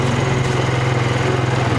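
A Honda Foreman ATV engine runs at a steady idle with a rapid, even low putter and a buzzy upper tone, loud and close with no voices.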